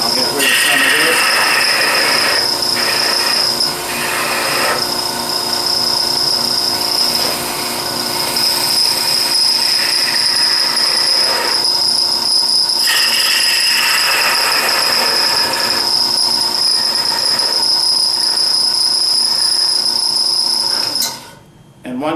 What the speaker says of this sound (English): this is the only time I can sand